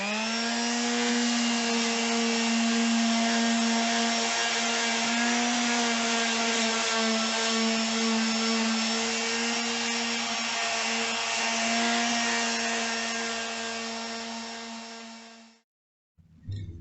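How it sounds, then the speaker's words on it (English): A power sander works over a Charter Oak dining chair, rounding off rough edges and corners, giving a loud, steady tonal whine that holds for about fifteen seconds before cutting off abruptly. "Just a good sanding, round off the rough edges,"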